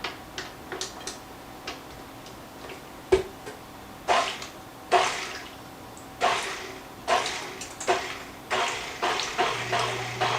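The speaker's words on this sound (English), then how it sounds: "And then we're going to mix this really well. We're going to break it up, but go slow." Sweet potato casserole being mixed with syrup, a spoon or utensil striking the bowl in slow, regular wet clicks and taps, close and fairly clear, with no talking.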